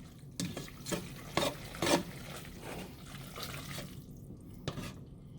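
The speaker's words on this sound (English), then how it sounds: "You're gonna want to just stir it up. Give it a nice. It's like you're whisking eggs." Sauce mix stirred briskly as if whisking eggs: close, wet swishing strokes in an uneven rhythm, a few louder scrapes, then quieter stirring, with no talking.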